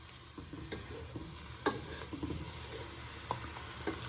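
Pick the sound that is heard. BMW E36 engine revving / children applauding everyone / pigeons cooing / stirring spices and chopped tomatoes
stirring spices and chopped tomatoes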